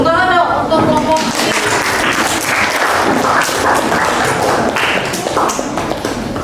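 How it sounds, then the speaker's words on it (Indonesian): A classroom gives applause for a student group: dense, continuous clapping from many hands, fairly loud throughout with no pause. "Tepuk tangan dong untuk kelompok"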